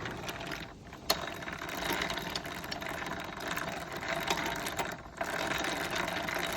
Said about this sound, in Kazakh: Осылай жіпті керіп айналдыра береміз.